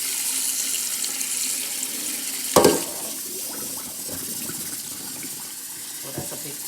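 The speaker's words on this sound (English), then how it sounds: "All the starch and stuff, rinse that off." Tap water runs over freshly cut potatoes to rinse off the starch, a steady close splashing stream with a brief clatter partway through and light handling noises in the sink.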